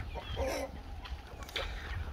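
Brahma chickens in a garden coop cluck in a few soft, short bursts, fairly close, over quiet outdoor background.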